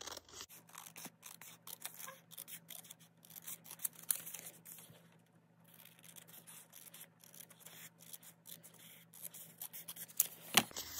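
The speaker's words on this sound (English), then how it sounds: "So first I will cut the sides." Scissors snip repeatedly along the edges of paper tickets in a quiet craft session, close, crisp cuts in uneven bursts with a short lull midway and one sharper snip near the end.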